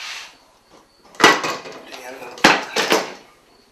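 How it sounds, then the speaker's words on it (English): Clamps pulled off glued wooden table legs in a woodshop, a few loud close clanks and wooden knocks in uneven bursts, with quiet handling between. "let's see how these legs came out. Start pulling the clamps off."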